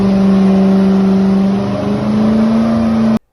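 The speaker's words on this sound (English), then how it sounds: "Basically, Scott, this is on a rolling road. This is kicking out 400 horsepower at the rear wheels." A Ferrari F40 build with about 400 rear-wheel horsepower runs on a rolling road dyno. It gives a loud, close, steady engine drone with strong tonal harmonics and a slight rise in pitch midway, then cuts off abruptly.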